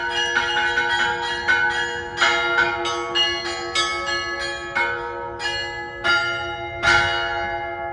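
Church bell rung by a bell ringer, a series of loud ringing strikes at an uneven rhythm, each with a long shimmering decay overlapping the next.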